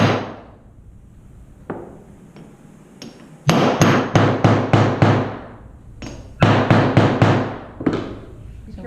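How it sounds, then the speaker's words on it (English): Rawhide mallet striking jewellery metal on a bench, a few scattered single knocks followed by two quick bursts of about six to seven sharp, evenly spaced blows each, close and loud. "And use the rawhide mallet."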